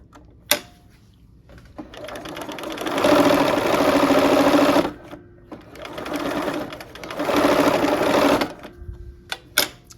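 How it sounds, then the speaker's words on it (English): A sewing machine whirs in two steady bursts of rapid stitching on quilt seams, with clicks and handling noises before, between and after the runs. "let's go back to the sewing machine. Okay, let's sew those next 2 seams"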